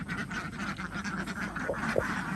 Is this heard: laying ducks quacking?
yes